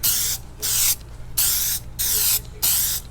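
Plasti Dip sprays onto the chrome trim of a RAM 1500 in a desert setting as a second coat, heard as five short, loud hissing bursts separated by brief gaps.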